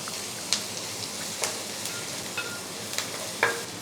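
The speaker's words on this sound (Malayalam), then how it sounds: "സവാള ഒരുപാടൊന്നും വഴറ്റണ്ട, 1 മിനിറ്റ് നേരം ഒന്ന് ഇളക്കി കൊടുത്താൽ മതി മീഡിയം ഫ്ലെയിമിൽ." Onion and crushed garlic sautéing over a medium flame while okra thoran is being made, a steady soft sizzle broken by a few sharp scraping stir strokes, fairly close and alone.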